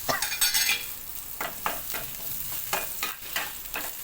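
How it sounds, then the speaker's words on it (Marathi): Green chilies being fried and stirred in a pan, a soft sizzle broken by repeated scraping strokes of a spoon against the metal, close and fairly quiet. "मिरची छान परतून द्यायची म्हणजे ती जाचतही नाही आणि टेस्टही छान टाकते"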